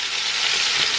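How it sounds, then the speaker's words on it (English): Pork sizzles loudly in a frying pan, a close, dense, steady hiss of frying with no break and no voices. "you're going to let this sizzle"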